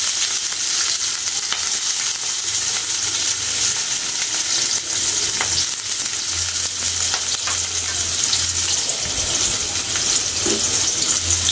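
Onions frying in a pan, a loud, steady, close hiss of sizzling oil throughout with occasional stirring sounds and a low hum underneath.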